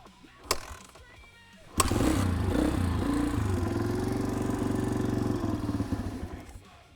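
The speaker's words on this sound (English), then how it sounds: "the choke's all the way on. And it's running, and it sounds good." A Honda CRF150 dirt bike with its choke fully on kicks and catches, then idles steadily with a close, even putter that roughens slightly near the end.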